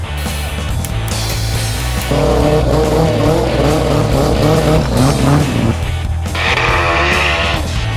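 A modified Apex mountain machine running on race gas roars loudly nearby, its engine climbing through rising revs with strong, sustained acceleration.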